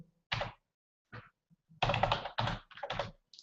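Computer keyboard keys tapped to type a web address, a few isolated clicks followed by a quick run of close, crisp keystrokes.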